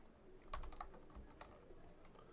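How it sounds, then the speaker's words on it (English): Keystrokes on a computer keyboard while entering data into a spreadsheet, a quiet run of several soft clicks at uneven spacing with no talking. "we're going to start typing in information"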